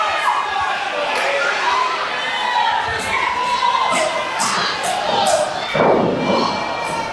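A dense crowd at a live independent wrestling match cheers and shouts continuously, with sharp thuds from the ring and a commentator's voice running over the noise.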